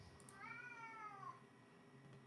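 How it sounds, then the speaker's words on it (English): Pet cat meowing in the background of a podcast recording, one drawn-out, wavering cry lasting about a second, faint and distant. "Tom, was that your cat crying in the background?"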